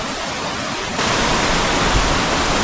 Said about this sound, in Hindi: घट जिसे चक्की भी कहा जाता है, ये पानी से चलता है।